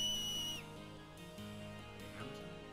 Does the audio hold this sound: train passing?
no